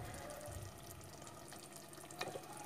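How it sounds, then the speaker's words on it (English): Fish pieces slide into boiling water for a Kerala fish curry, giving a steady bubbling, sizzling wash of sound with a few small splashes and a sharper clink near the end, moderately faint and close, with no talking. "I directly put the fish pieces slowly into the thing."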